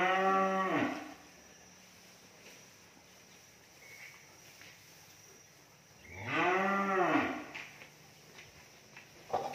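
Cattle at a cow farm moo twice, each call a loud, drawn-out bellow with a rising then falling pitch, separated by several seconds of quiet outdoor background with faint insects.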